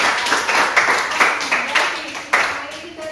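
Students in a classroom clapping together, a loud, rapid round of hand claps that continues throughout with slightly uneven rhythm.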